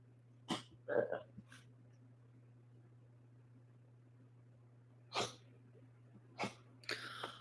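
A small dog gives a few short, dry coughs and sneezy snorts, separated by quiet pauses over a low steady hum.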